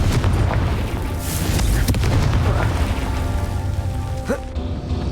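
Confringo spell blast in Hogwarts Legacy gameplay on Nintendo Switch, a dense, loud rumbling boom with crackling debris that holds through most of the stretch before tailing off near the end.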